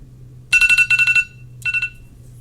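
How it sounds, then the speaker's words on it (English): A timer goes off with two bursts of rapid, shrill electronic beeps, a longer group followed by a shorter one, close and loud in a quiet room. "The timer's going to go off."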